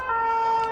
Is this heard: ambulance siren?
yes